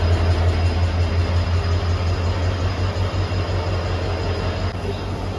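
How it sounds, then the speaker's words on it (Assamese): Steady low rumble and droning hum of a train, loud and continuous throughout, with no voices. "এখন কি ট্ৰেইন হয় খালি নাজানো"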